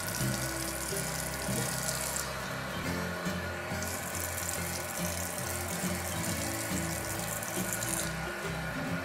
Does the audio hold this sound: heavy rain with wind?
no